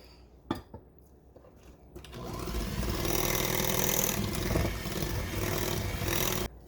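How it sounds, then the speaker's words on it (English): An electric mixer blends peanut butter and jelly cheesecake batter with sugar, starting after a couple of clinks and then whirring steadily and loudly close by for several seconds before cutting off. "And then just keep mixing until it's all nice and smooth."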